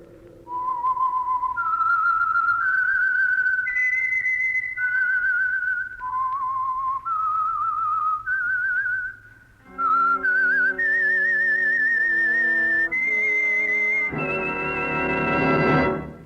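A lone whistler performs the eerie, wandering theme of The Whistler, the Signal Oil radio mystery program, in a clear, steady melody of sustained notes that climb and fall before a swelling orchestral chord joins near the end.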